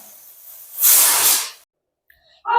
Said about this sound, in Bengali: এদিকে ডালটা আমার হয়েও এসেছে সিটি দেওয়া